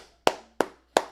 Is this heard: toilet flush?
no